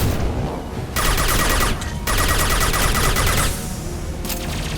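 Rapid, dense gunfire from a firefight against the Shadow Broker's private army in Mass Effect 2 cracks almost continuously, with loud volleys that swell and briefly ease.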